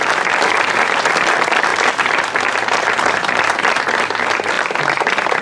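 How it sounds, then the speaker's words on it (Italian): A crowd at a slalom race in Cellara gives sustained, dense applause that stays loud and even throughout with no pause. "vi chiedo un grosso applauso per Carmelo Scaramozzino."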